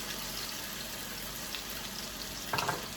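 Butter melting in a pan for stuffed salmon with shrimp and crab alfredo, a steady close frying crackle and sizzle with a brief louder flare near the end.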